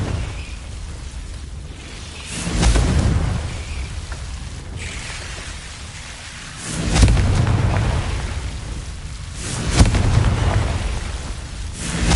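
Three heavy booming blasts from the Confringo fire spell in a Harry Potter video game, each a broad rumbling burst that swells and slowly fades over a steady crackling, rain-like game ambience, with no talking.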